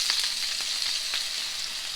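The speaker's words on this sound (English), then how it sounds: "I'm going to put my potatoes in." Seasoned potatoes crackle and sizzle in a hot skillet on a low burner, a bright continuous fry with a few sharper pops, close and without any voices.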